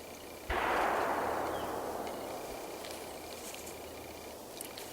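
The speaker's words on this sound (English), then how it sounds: "Apologize for the gunshot." A single loud gunshot from target shooting somewhere in nearby woods cracks out sharply and leaves a long, slowly fading echo rolling through the trees, with no talking.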